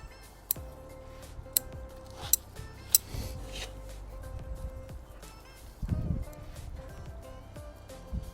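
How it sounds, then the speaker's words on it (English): Maple branches trimmed with pruning shears during a midsummer cutback, several crisp snips spaced about a second apart, close and fairly quiet, followed by rustling of leaves. "anywhere I don't need it to thicken up, I'm just gonna cut back."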